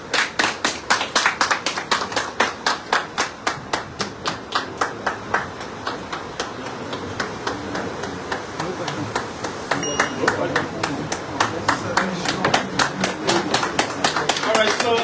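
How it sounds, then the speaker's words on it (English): An audience at a Liberian political party press event claps together for the chairman in a strong rhythmic unison beat, loud and close, continuing steadily with a voice breaking in at times. "let's clap for the chairman"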